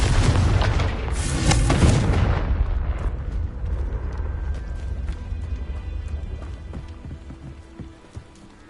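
A Confringo fire spell in the Hogwarts Legacy video game erupts as a loud, booming fiery blast, then decays into a long crackling, rumbling tail that fades over several seconds.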